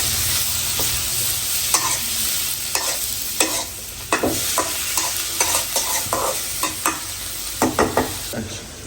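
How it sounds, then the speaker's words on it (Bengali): Bitter gourd (karela) slices fry in a pan, a steady sizzle running under repeated scraping and clinking as a utensil stirs them, close and without talk. "এইখানে হলো করলা ভাজি হইতেছে"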